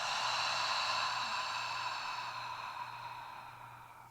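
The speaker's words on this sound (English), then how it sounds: "let it out through an open mouth and make a sound" A person in a beginner yoga class lets out a long, deep exhale through an open mouth with an audible sighing sound, breathy and close, slowly fading over several seconds.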